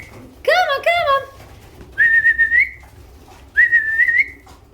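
A person whistles to call pigeons in: a warbling two-part whistle followed by two long, steady high whistles with pauses between, loud and close.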